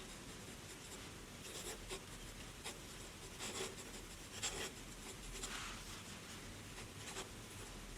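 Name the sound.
Pilot IRO Utsushi fountain pen writing on paper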